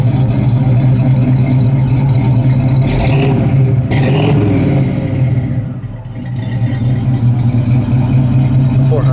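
A 1975 Pontiac Trans Am's engine runs loud and close, a deep, throbbing exhaust rumble with a couple of revs partway through and a brief dip before settling back to a steady idle.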